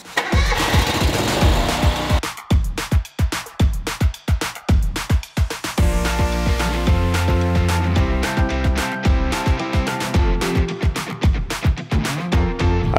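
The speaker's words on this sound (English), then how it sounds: "Let's get out there and mow." Gas lawn mower engine running loud and close, a rough buzzing drone with choppy surges and pulses as it is pushed across the lawn, with no one speaking.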